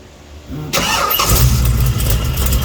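A 1989 Ford Mustang Fox-body with a failing throw-out bearing cranks briefly and catches, then settles into a loud, rough running engine close by with no talk.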